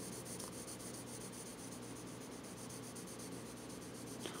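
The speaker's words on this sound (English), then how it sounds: "I prefer to just go back and forth and get the pencils as smooth as I can on their own" Colored pencil strokes rubbing back and forth across paper, a steady close scratchy texture that runs continuously without pause.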